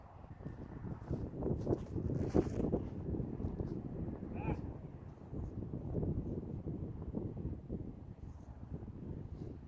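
Wind gusts across the Dick Kleberg disc golf course, buffeting the microphone as a continuous low rush that rises and falls, with someone talking over it.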